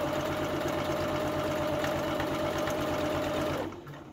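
Electric sewing machine stitches fabric pieces for a wrap top in a steady, rapid mechanical hum with a fast rhythmic needle chatter, running continuously up close before stopping abruptly near the end.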